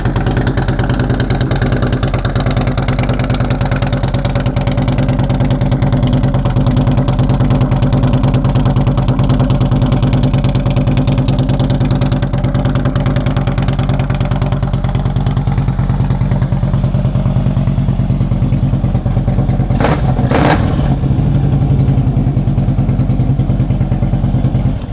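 A Harley-Davidson Screamin' Eagle Ultra Classic with 15,542 miles idles steadily at close range, a loud, even, deep engine rumble that runs throughout, with a brief rev or clatter around the twenty-second mark.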